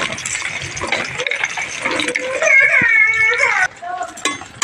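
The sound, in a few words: ridge gourd pieces added into boiling lentil dal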